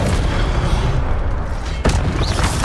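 In Hogwarts Legacy, an Incendio fire spell bursts with a rough, booming whoosh. It sits amid dense game-combat noise, with a sharp crack near the end.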